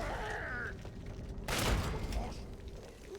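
A grenade explodes in Fallout 3 with a sudden broad burst that rolls off over a second or so, loud and close, while a voice talks over it.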